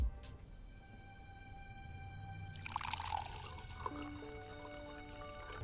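Wine poured into a glass in a film scene, a light liquid splash and trickle rising over a quiet room tone with a faint tonal background, lasting a couple of seconds.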